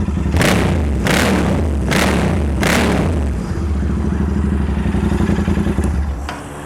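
A Royal Enfield GT 650 fitted with an aftermarket exhaust gives four sharp throttle blips in quick succession, then settles into a steady, throbbing idle. It is close and loud, with no talking.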